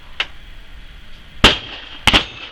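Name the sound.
Whitworth rifle being fired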